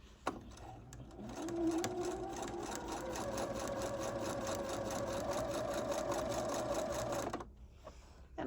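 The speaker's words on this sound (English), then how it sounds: "And we're going to sew them together." A sewing machine stitches quilt blocks together with a 1/4 inch seam, running steadily for about seven seconds with a continuous whirring hum before stopping, close and alone.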